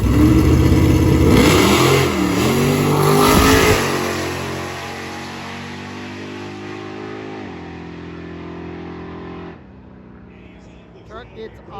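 A small-block Mopar drag car revs hard and accelerates away on its pass, its loud engine note rising then fading into the distance, with a commentator talking over it.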